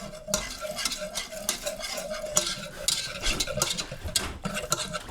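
Whisk scraping quickly through bechamel sauce in a pot on the stove, a close, continuous metallic swishing with rhythmic strokes and a faint sizzle underneath.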